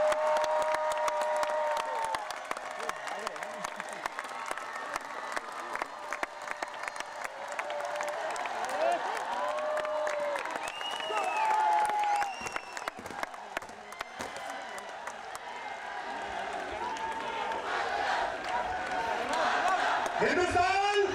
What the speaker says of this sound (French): On encourage alors la foule à crier, ce qu'elle fait avec enthousiasme